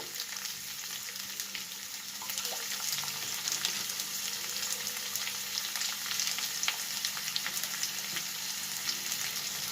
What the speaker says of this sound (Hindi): जब तक ये भून रही है तब तक मैं एक मसाले तैयार कर लेती हूँ